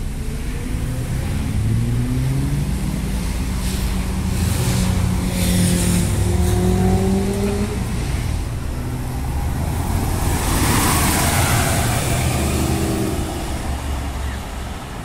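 A passing bus in suburban traffic swells as it goes by, engine and road roar rising and fading over several seconds, with other vehicle noise in the background.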